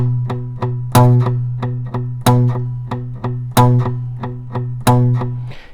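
Guitar strummed in a steady repeating pattern, with every fourth strum noticeably louder to mark the accented first note, bright and close with no voices over it.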